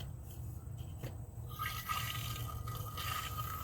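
Electric fuel pump on a 1989 Toyota pickup priming the fuel rail, heard as a steady liquid rush and hiss that grows stronger about halfway through and continues to the end, close by with no talking.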